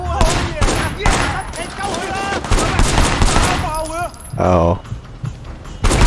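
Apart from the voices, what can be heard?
gunfire from the video game Sleeping Dogs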